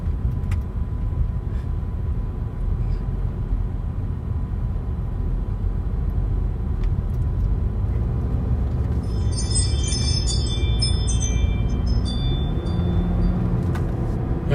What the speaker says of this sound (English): That noise you hear is the Ring doorbell at the radio station.